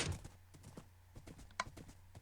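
Horse hooves from a video game race, a quick run of soft clip-clop beats that is faint and steady, with a sharper hit near the middle.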